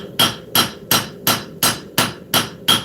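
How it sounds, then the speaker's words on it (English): A Damascus blade being forged with the round side of a turning hammer, working the heel, bevels and edge: eight sharp metallic blows land in a steady, even rhythm, loud and close. "we're going to take the round side of this turning hammer."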